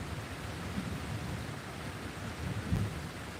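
Thunderstorm outside a shop, steady heavy rain hissing on surfaces with low rumbles of thunder, one stronger roll swelling near the end.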